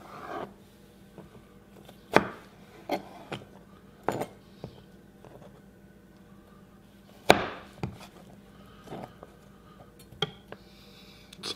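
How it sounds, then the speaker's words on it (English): Knife cuts cucumber into julienne strips on a board, heard as a series of sharp, close chopping taps spaced irregularly with quiet pauses between and no talking over them. "So here we want to just cut little strips of cucumber."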